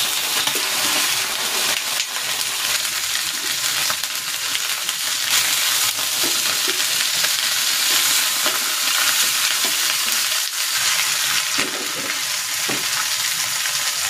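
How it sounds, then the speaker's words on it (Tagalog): Chicken legs sear in hot cooking oil for a hamonado dish. A dense, bright sizzle runs continuously up close, with occasional crackles and pops. There is no talking. "I-sear ko muna itong chicken."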